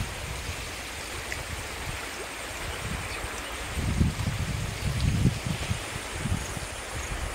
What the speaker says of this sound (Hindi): देखंतु केमती प्रबल पानी है